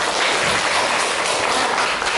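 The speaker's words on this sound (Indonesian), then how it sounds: "tepuk tangan lagi" Continuous applause from a classroom of students, a dense, steady wash of clapping that fills the whole stretch at close range without pause.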